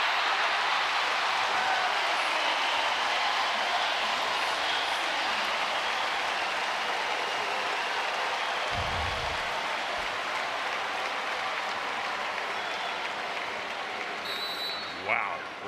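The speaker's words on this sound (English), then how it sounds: "Hey, you think the crowd liked that one? It got loud in here." Arena crowd roaring and applauding after a rally in a college volleyball match, Wisconsin versus UCLA in an NCAA third-round game; a sustained, loud wash of cheering fills the whole stretch with a brief thud midway.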